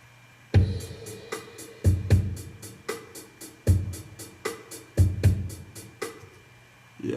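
Keyboard bass and drum part from a House of the Rising Sun arrangement: steady kick and snare hits under a rhythmic hi-hat, with a low bass line, loud and close with no voices.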